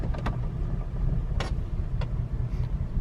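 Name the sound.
small SUV engine sputtering in gear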